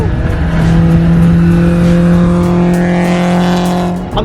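Loud car engine revving close by, a sustained high-pitched roar with rising then falling pitch over a few seconds, very loud throughout.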